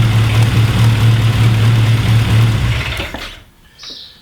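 A classic Mini engine idles steadily at about 900 RPM with the vacuum advance disconnected. The close, even hum runs for about three seconds, then cuts away to near quiet.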